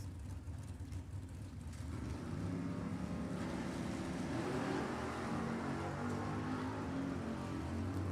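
Drag racing cars at Sacramento Raceway, a '75 Camaro and a small-block '38 Chevy, roar loud and steady with a sustained engine drone that swells after a couple of seconds and holds without talk.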